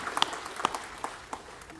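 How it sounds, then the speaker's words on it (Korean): A congregation at Daegu Hana Church's second Sunday worship service gives applause of thanks to God, a short burst of sparse, distinct hand claps that thins out and fades, with no speech over it. "감사의 박수를 하나님께 드리겠습니다"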